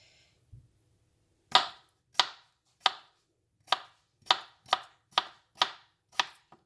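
A kitchen knife chops vegetables into cubes on a board for chicken shashlik, giving nine sharp, close knocks at a steady, slightly uneven pace after a quiet start.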